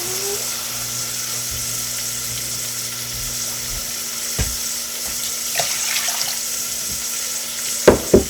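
Tap water runs steadily into a cup for rice in a home kitchen, a constant hiss of flow with a few small clinks and knocks near the end.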